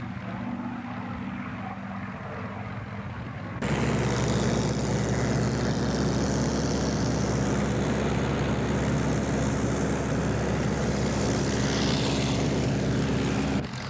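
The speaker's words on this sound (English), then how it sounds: "Here's Pete McManus in his P-51 Mustang performing a hammerhead turnaround, a most unusual maneuver for this type of aircraft." A P-51 Mustang fighter plane performing a hammerhead turn at an air show, its piston engine a continuous loud droning roar that jumps suddenly louder partway through and holds steady.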